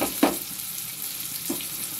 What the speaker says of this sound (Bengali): পেঁয়াজটাকে খুব একটা একদম পুড়িয়ে ফেলবো না, লাল লাল করে ভেজে নেব